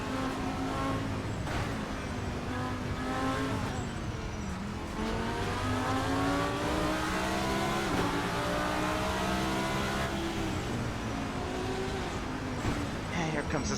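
Racing car engine in Assetto Corsa with a Porsche closing in, a sustained revving drone whose pitch climbs and falls through gear changes, loud and continuous throughout, with talk over it.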